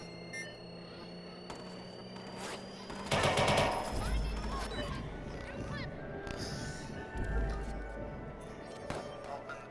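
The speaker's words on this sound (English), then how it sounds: "I was right about the LMG" Light machine gun bursts crackle in Watch Dogs 2, a rapid rattling volley midway with deep booming thuds, then scattered shots and rumbling impacts under ongoing game ambience.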